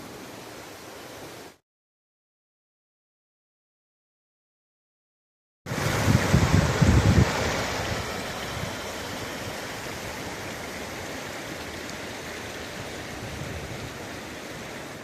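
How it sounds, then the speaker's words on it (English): Steady broadband rush of creek water where the Westkill joins Schoharie Creek, starting abruptly after a brief gap and continuing loud and even, with a swell of louder turbulence early on. "I am now at the Westkill tributary, or confluence, with the Schoharie Creek"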